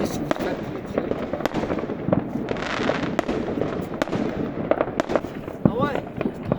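Fireworks burst from a stadium in a dense, continuous barrage of crackling pops and sharp reports, with people talking nearby throughout.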